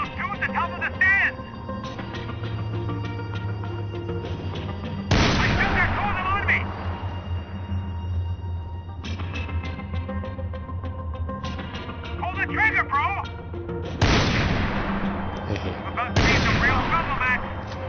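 Heavy gunfire from the video game Max Payne 3 erupts in loud bursts across the stretch, with dense volleys separated by quieter gaps of game ambience, while someone talks over the action.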